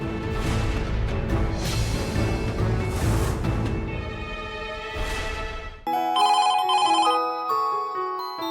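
A telephone rings on an outgoing call to the child protection office in Kolhapur, in a Marathi TV drama scene: a short electronic ringing pattern that repeats after background music stops abruptly.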